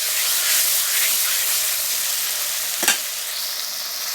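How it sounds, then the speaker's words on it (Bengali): Spiced paste of ginger, garlic and red and green chilli with tomato sizzles and fries steadily in a pan for a mutton curry with jackfruit, with a brief stir scrape near the end. "টমেটো দিয়ে দিলাম, আর একটু কষিয়ে নেব"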